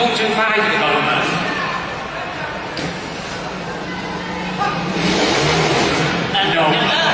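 A 125cc trials motorbike engine revs and surges in short bursts, with a commentator talking over it throughout.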